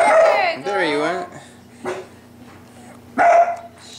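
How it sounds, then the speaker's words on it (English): Tyson, a pet dog, lets out a few loud, close barks and yowling whines in short separated bursts, with people talking nearby between them. "Tyson, please stop barking."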